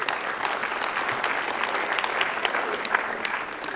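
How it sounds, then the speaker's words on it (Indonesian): Studio audience at a stand-up comedy grand final applauding a comedian, steady dense clapping sustained throughout at even volume with no talk over it. "kita kasih tepuk tangan sekali lagi untuk Rian Adriani"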